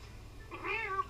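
A cat meows at bath time in the Toca Life Pets video game, a single rising and falling call lasting about half a second, moderately loud over a faint background hum.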